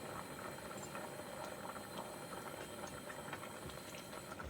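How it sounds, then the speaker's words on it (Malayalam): Steady bubbling and gurgling of water at a rolling boil with cauliflower in it, a dense continuous patter with faint rattles, heard up close with no voices. "കോളിഫ്ലവർ വെള്ളത്തിൽ കിടന്ന് നന്നായിട്ട് ഒരു 2-3 മിനിറ്റ് തിളച്ചിട്ടുണ്ട്"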